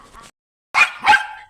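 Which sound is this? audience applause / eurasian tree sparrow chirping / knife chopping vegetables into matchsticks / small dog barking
small dog barking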